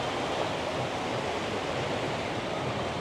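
Heavy monsoon rain pours near Janki Setu in Rishikesh, a dense, even roar of rain and rushing water that stays loud and unbroken throughout, with no voices.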